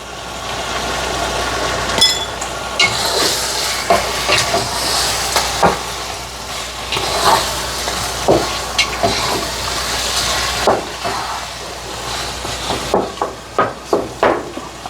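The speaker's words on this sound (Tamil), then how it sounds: "சூப்பராக வதங்கி கொண்டிருக்கு" Chicken biryani masala sautéing in a pan, a steady sizzle with repeated scraping and stirring knocks of a spoon against the pan, fairly close and continuous without talk.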